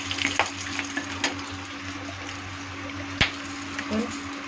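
Dried chilies, a bay leaf and cloves sizzling in hot oil in a pan after an egg has been fried, a steady low crackle with a few sharp pops and a brief stir partway through.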